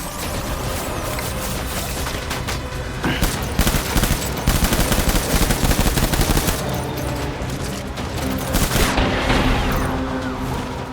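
Heavy gunfire in the PS5 game Death Stranding, with rapid machine-gun bursts and scattered booms rolling continuously and loudly for about ten seconds, with a brief voice underneath.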